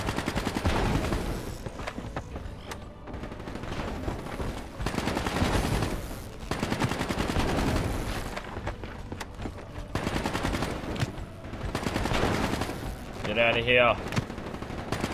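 Call of Duty Black Ops 3 campaign gunfire, loud sustained automatic bursts in several long volleys with brief gaps, plus a rising electronic tone near the end, and a voice talking over it.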